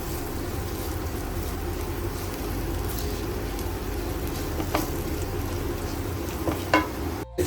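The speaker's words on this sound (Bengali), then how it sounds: "অল্প একটু কাশ্মীরি মির্চ পাউডার, এবার একটু নাড়িয়ে নিচ্ছি আমরা 1-2 মিনিটের মতো।" Spices with Kashmiri chilli powder fry and sizzle in a pan while being stirred, a steady close crackle with occasional scrapes and clicks of the spoon.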